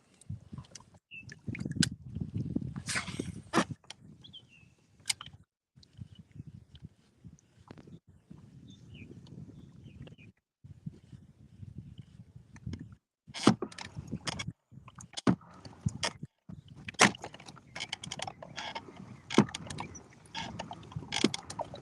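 A kayak is paddled while fishing, with irregular close knocks, clicks and water swishes in uneven bursts, some sharp and loud, others soft.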